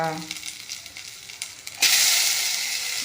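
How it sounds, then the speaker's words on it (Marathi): Onion dropped into hot ghee in a pan and sautéed, with light stirring scrapes at first, then a sudden loud, steady sizzle that fills the rest of the moment. "त्यामध्ये प्रथम कांदा घालायचा कांदा परतून घ्यायचा"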